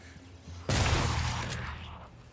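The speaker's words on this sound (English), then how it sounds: "Fucking love the shotgun, it's amazing." A single heavy shotgun blast in Prey, a sharp near boom with a long decaying tail, standing alone.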